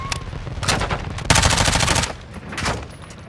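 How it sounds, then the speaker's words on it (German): Automatic gunfire in the Call of Duty Modern Warfare 2 video game, with rapid bursts of loud shots coming in several waves and one dense, sustained volley in the middle, with no speech over it. "Warum hab ich geschossen?"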